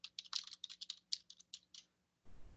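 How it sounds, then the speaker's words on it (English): Quick, light keystrokes tap out on a computer keyboard in a rapid irregular run for about two seconds, close and quiet, with no talking, followed by a brief burst of soft noise. "just hit enter and just start typing"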